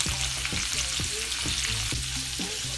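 Four cut-up sausages fry in a pan on the stove for a seafood boil, a loud close sizzle with rhythmic stirring and scraping strokes repeating roughly every half second.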